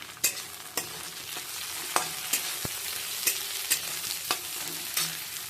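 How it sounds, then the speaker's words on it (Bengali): Chopped capsicum frying in a pan with a soft, steady sizzle, broken by repeated sharp scrapes and taps of a spatula as it is stirred; no voices. "এবার দিয়ে দেবো ক্যাপসিকাম কুচিগুলো। এটা বেশি ভাজতে হবে না, হালকা নেড়ে চেড়ে"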